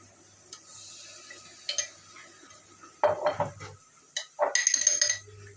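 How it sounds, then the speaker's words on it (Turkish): Lentils tipped into a cooking pot in a home kitchen, a few brief rattling pours and clinks of metal cookware, fairly close, alone without talk amid quiet pauses. "Şimdi mercimeğimi de koyayım"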